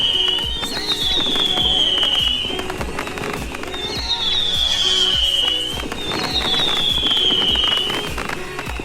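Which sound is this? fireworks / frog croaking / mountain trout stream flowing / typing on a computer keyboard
fireworks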